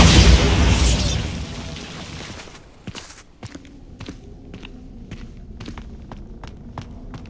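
A Bombarda blasting spell explodes in Hogwarts Legacy, a loud roaring blast that fades over about two seconds, followed by a series of sharp footsteps and small popping clicks.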